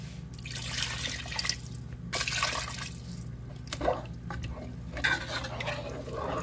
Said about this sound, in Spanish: Ponemos agua.